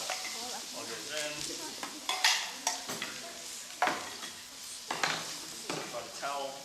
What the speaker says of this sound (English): it's definitely sizzling now.